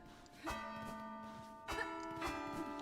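Bells in a video game bell puzzle, two clear ringing strikes about a second apart with long sustained tones, faint and alone.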